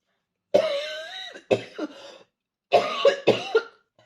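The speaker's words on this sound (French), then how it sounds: "vous allez m'entendre souvent tousser là," A woman coughs in two short bursts, pauses, then coughs twice more, close and fairly loud.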